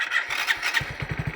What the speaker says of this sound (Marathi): गाडी चालू.